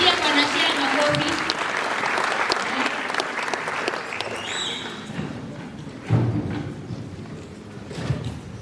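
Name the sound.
audience applause at debate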